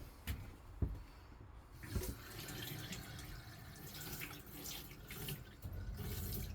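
Hot water runs steadily from a tap into a sink in a 2012 Swift Challenger 480 caravan, a continuous splashing hiss with a few clunks and knocks, no talking.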